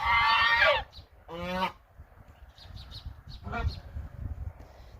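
Geese honk in loud, harsh calls nearby, a few long blasts followed by fainter, scattered honks and cackles.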